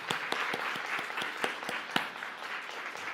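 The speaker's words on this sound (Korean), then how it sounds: "우리 한번 박수 한번 쳐주세요." A church congregation applauds steadily, dense hand claps filling the room at a moderate distance, with a few sharper claps standing out over the wash.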